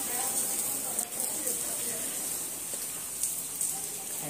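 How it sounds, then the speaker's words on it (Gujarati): Heavy rain falls steadily outdoors, a dense continuous hiss with occasional louder drop spatters, at a constant moderate level with no talk. "પૂરો વરસાદ ચાલુ છે સવારથી લઈને અત્યાર સુધી"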